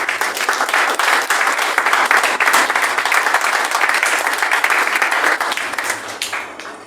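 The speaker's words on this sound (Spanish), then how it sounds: "¿Por qué no le das un aplauso al Señor?" A church congregation claps in sustained, loud applause for several seconds, dense and steady throughout, fading slightly at the end.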